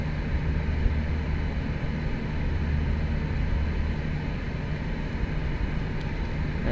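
A turboprop airliner taxis in a flight simulator game. Its engine drones as a steady, even hum with a faint high whine, holding unchanged for the whole stretch with no talking.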